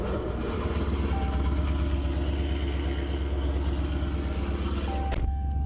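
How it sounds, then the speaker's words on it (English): A Dodge Challenger ScatPack rumbles with a deep, steady exhaust throb, loud and close with an even pulsing beat. It cuts off abruptly near the end, and no one speaks. "my favorite part about this car is literally just the exhaust sound"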